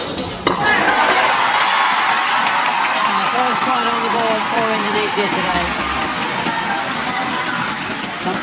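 A dense, noisy crowd fills the stands at an Asian Games 2018 tennis doubles match, a loud, continuous roar of chatter and cheering that never lets up, with a sharp knock near the start and a commentator talking over it.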